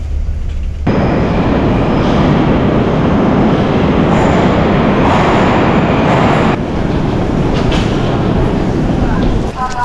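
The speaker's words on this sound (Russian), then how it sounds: "как московское метро выглядит изнутри" Steady loud rumble heard inside a moving Moscow metro train, with wheel and rail noise filling the whole stretch and a brief shift in tone near the start.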